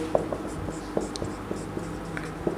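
An explanation is written out by hand, pen scratches and taps in short, irregular strokes close by, soft and with some faint voice in the background.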